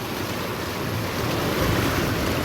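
Water flowing at Palasdhari Dam during heavy monsoon rain, heard as a steady, broad outdoor rush mixed with wind buffeting on the microphone, continuous and fairly loud, with no voices.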